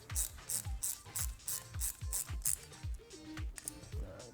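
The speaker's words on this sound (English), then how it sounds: "I have a nice ratcheting box wrench." A 10mm ratcheting box wrench tightening a screw on a Suzuki GSX-S1000 motorcycle, with about eight quick rhythmic ratchet clicks, close and quiet, slowing into a few softer clicks at the end.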